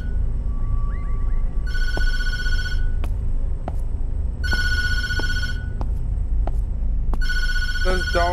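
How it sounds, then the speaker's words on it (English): Telephone bell rings in the Tattletail video game, three sharp bursts of bright electronic ringing with pauses between them, a few faint clicks and a short warbling tone near the end, over a steady low background hum. "Don't answer the phone,"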